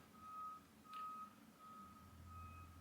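Intermittent reversing beeps from a truck sound at a moderate distance, a steady high tone repeating in short pulses over a low background rumble.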